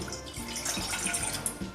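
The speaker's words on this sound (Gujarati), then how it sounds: "તેમાં આપણે 2 કપ પાણી નાખીશું" Two cups of water splash steadily into a metal pot for sugar syrup, a couple of seconds of close, even rush with no voices.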